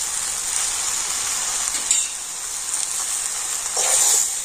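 Mango pickle with sugar and salt cooks in a pan, giving a steady bright sizzle with soft scraping as it is stirred, the stirring louder in two brief spots.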